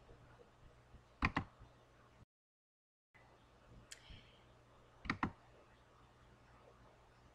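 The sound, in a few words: computer mouse clicking in CorelDRAW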